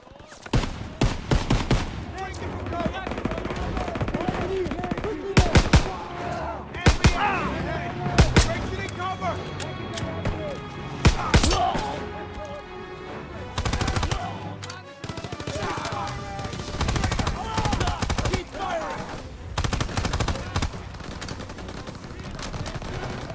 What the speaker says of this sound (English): The distant rumble of artillery, even the way bullets whiz by or pin off surfaces